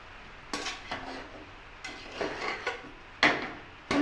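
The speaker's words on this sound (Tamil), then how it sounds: "இப்போ நம்ம ஓப்பன் பண்ணி ஃபுல்லாக கிளறி விட்டுடலாம்" Tomato rice is stirred in a cooking pot, giving a series of close scraping and clinking strokes in irregular bursts, with a sharper knock near the end and no voices.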